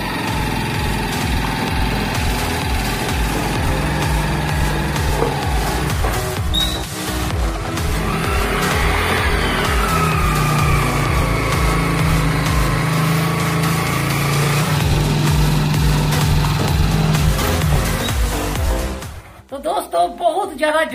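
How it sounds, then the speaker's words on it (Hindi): A 125cc motorcycle engine strains and revs steadily at close range as the bike is pushed up a steep climb, droning continuously for about nineteen seconds before cutting away abruptly. "हमारी बाइक जो है 125 सीसी की है"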